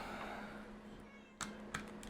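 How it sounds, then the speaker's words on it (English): A kitten lets out two faint, brief meows near the end, close together, over a steady low indoor hum. "I got 2 new kittens and I'm having to shut them outside so they don't walk all over this."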